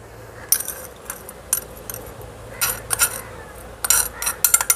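Pounded spices scraped and spooned out of a stone grinder into a bowl for Tamil-style chicken soup, heard as scattered sharp metallic clinks and scrapes in irregular bursts, close by, with no talking.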